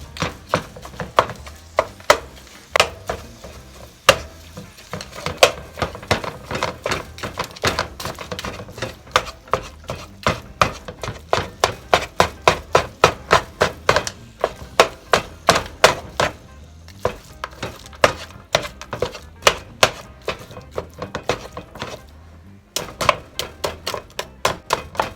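A utensil repeatedly scrapes and taps against a pan, breaking up raw ground beef for spaghetti in irregular sharp knocks and clicks that continue steadily up close with no talking.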